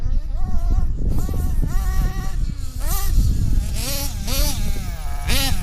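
A small high-compression nitro engine runs continuously at high revs, a whiny buzzing tone that rises and falls as the throttle is blipped, loud and close.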